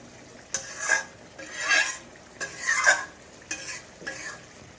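Tomato and onion fry with spices like cumin, turmeric and chili powder in a pan, heard as five distinct bursts of spatula stirring and scraping over a low sizzle.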